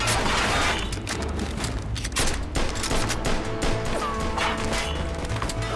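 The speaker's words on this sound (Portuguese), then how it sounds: "Nossa, os malucos estão de metralhadora, velho." Sustained machine gun fire in Mafia 2: Definitive Edition, dense, rattling bursts that run almost without pause, loud and close, mixed with crashing impacts and no voices.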